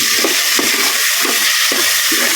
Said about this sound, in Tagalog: Para maigisa ko lang yung ating atay. Lalagay ko lang guys yung ating atay. Kahit di pa mainit yung mantika.